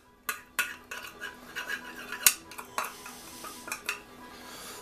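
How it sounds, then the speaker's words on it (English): A spoon scraping and clinking around a pot of potato soup being stirred, with irregular sharp knocks and scrapes close by and a quiet gap near the end. "we're going to stir this constantly"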